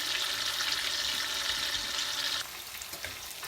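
Fish frying in an oiled pan, a steady bright sizzle that drops suddenly to a quieter hiss partway through.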